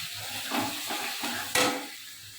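Cabbage with ginger paste is stirred in a hot pan, with a few soft scraping strokes over a quiet sizzle, close and without voices.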